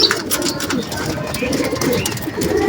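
Soft, close cooing from domestic pigeons in a home loft, a mother sitting with her young chick, repeating in low murmurs over light background noise.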